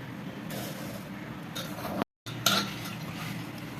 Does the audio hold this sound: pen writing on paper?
no